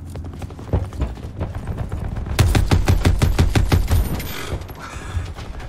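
A VKM 750 light machine gun in Call of Duty Black Ops 4 fires a sustained rapid burst of close, loud, evenly spaced shots with mechanical clatter, preceded by a few scattered reports.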